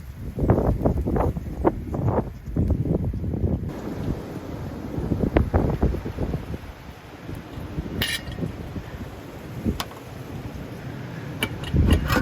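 Strong wind of about 30 miles per hour buffets the microphone outdoors beside a 1959 Corvette, a constant low rumbling roar with gusts rising and falling and a few faint higher clicks.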